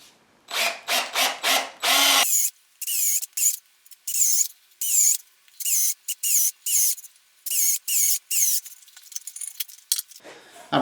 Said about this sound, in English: I'm just going to rough out the bulk with the Forstner bit